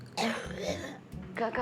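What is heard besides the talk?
a person coughing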